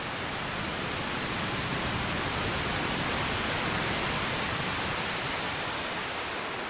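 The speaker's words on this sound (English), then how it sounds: "my left-right panning waves are going to sound more expanded than the central wave" Synthesized ocean waves built in VCV Rack form a steady, dense wash of broadband noise, even and continuous with no distinct breaks, spread wide across the stereo field.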